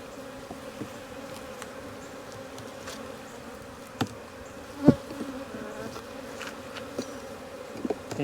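Honey bees buzzing around an open backyard hive during a brood frame inspection in Florida, a steady close drone with a few louder passes as single bees fly near.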